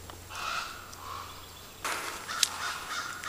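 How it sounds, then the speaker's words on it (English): Deep, hoarse calls of a raven heard outdoors during a herping outing: a harsh croak early on, then a louder burst of calls with one sharp peak, moderately near over a faint steady background. "It's one of those ravens."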